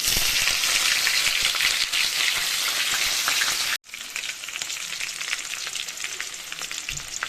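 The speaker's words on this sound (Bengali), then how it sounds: "দিয়ে দিচ্ছি সর্ষে ফোড়ন, কারি পাতা, দিয়ে দিচ্ছি কুচনো লঙ্কা" Mustard seeds, curry leaves and chopped chilli sizzle loudly in hot oil with a dense, hissing crackle. The sizzle cuts out for a moment, then resumes with sharper pops and stirring taps.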